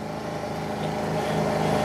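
PC50 paddock cleaner's small engine revving up to maximum, a steady mid-pitched motor hum rising gradually in loudness and pitch, close by with no talking.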